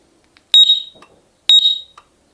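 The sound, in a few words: security alarm sounding, Datatool System 3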